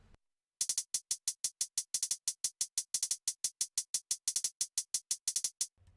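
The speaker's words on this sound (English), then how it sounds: "There's also a second hi-hat pattern that sounds like this." A second programmed FL Studio hi-hat pattern for a hoodtrap beat: sharp, bright ticks in a steady stream with occasional doubled hits and brief stutters, starting after a short silence and ending slightly cut off.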